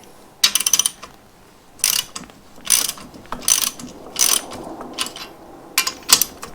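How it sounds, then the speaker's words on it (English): A hand ratchet clicking as it tightens suspension bolts on a GU Patrol: several separate loud bursts of rapid pawl clicks, close up, with short pauses between pulls and no talk. "Always just take your time, use a ratchet."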